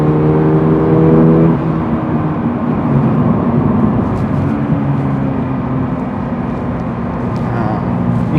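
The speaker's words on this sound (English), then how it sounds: "The boxer engine, to me, is something I'm getting used to. I think it sounds pretty cool at higher RPMs." The boxer engine of a Toyota GR86 revs while driving, its droning note rising and then easing off under a constant wash of road and cabin noise.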